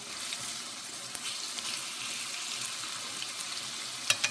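Tofu frying in a pan gives a steady, close sizzle with a soft hiss throughout, and a couple of sharper crackles and pops near the end.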